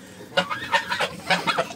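Geese on a farm honking in a few loud, close bursts, with harsh calls grouped into two clusters over a quiet background.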